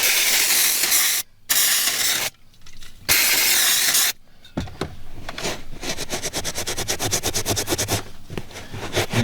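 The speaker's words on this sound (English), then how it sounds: "what I'm going to use is brake clean" Brake cleaner hisses from an aerosol can onto a black grease stain on the carpet of a Z28 project car, in three loud bursts followed by a fainter, fluttering spray and drip.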